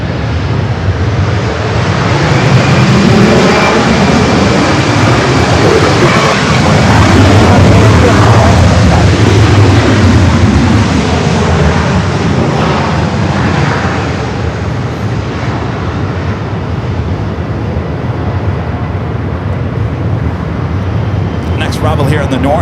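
A jet takes off at LAX, a loud, sustained roar that swells and slowly fades over about twenty seconds, with broadband rumble and wind-like noise. Talk in the background.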